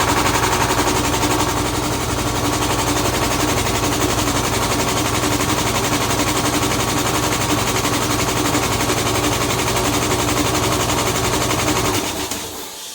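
Air compressor running on a newly fitted Vevor replacement motor, a loud steady mechanical clatter with constant rapid pulsing that holds for about twelve seconds, then cuts off abruptly.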